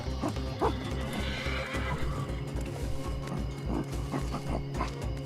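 Horses in the video game Ancestors: The Humankind Odyssey whinny and neigh over steady clip-clop hooves, set against a constant low game hum and ambient backdrop.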